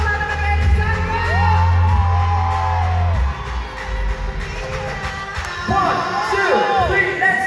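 Concert crowd cheering, whooping and shouting for a singer, lively and overlapping yells with heavy thumps early on and voices talking over the noise.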